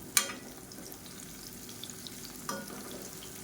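Raw plantain pieces fry in oil in a pan over a medium flame, giving a steady soft sizzle with a couple of sharp clicks from stirring or turning.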